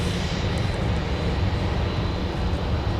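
An Airbus A320 airliner at MSP airport gives off a steady, broad jet-engine roar, moderately distant and continuous, with no talk over it.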